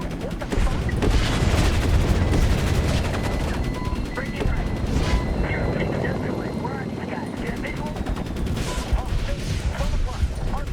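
Rapid bursts of gunfire in Medal of Honor (2010), during an AH-64 Apache assault, crackle over a constant engine-like roar, with a voice talking through the loud, busy mix.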